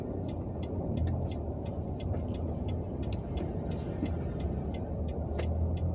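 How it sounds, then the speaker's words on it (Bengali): A truck passes along a city street in Uttara on a morning with light traffic, a continuous close engine rumble with road noise and faint ticking, no talk. "ট্রাক যাচ্ছে"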